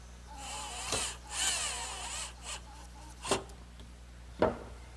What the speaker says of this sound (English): And I'm going to fasten them to the lower cross member with a screw.